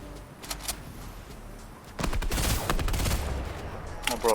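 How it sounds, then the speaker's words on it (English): Gunfire from a sniper in a first-person shooter game, with scattered faint shots early on and then a dense burst of loud cracks and reports. A few distant shots follow, under light game noise. "they're trying to snipe us, bro."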